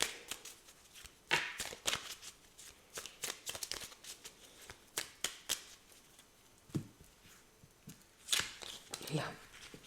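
Oracle cards shuffled by hand for a reading, a series of close, crisp riffling and slapping bursts in an irregular rhythm, with a voice speaking faintly between them.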